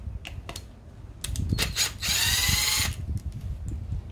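A 10 mm nut on the camshaft sensor of a Honda CBR600F4i motorcycle engine being removed with a power tool, a few short ticks, then a high whirring burst of about a second, fairly close.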